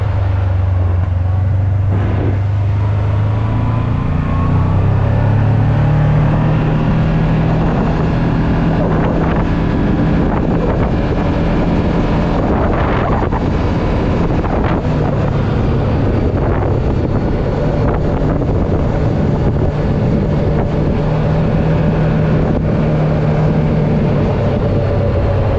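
A Kawasaki PRO-FXT 1000 LE side-by-side accelerates under steady throttle, its engine drone continuous and close, with heavy wind buffeting the microphone the whole way through.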